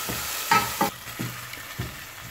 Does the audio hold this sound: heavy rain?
no